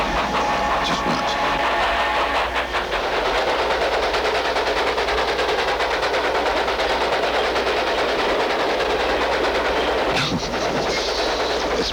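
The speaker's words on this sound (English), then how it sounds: "they're escaping on a train." A train rattles along steadily with a loud, continuous rumble and rhythmic mechanical clatter, with a sharp burst near the end.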